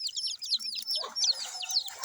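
Young chicks and hens chirp and cluck close by in a busy, high-pitched patter of short calls that overlap continuously throughout, with no voices.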